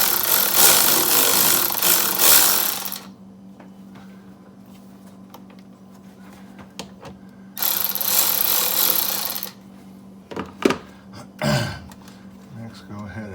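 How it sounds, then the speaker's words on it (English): A ratchet loosens a 10 mm clamp bolt on a GR Corolla, giving two long bursts of fast, buzzing clicks close to the microphone, then quieter taps and short rattles as the bolt comes free. "we need to go ahead and loosen this clamp bolt right here"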